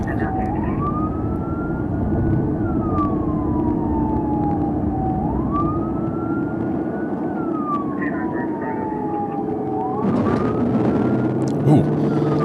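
A rising and falling police siren from a police chase video game wails loud and steady through several sweeping cycles, over a continuous engine rumble and game noise, with a sharper burst near the end.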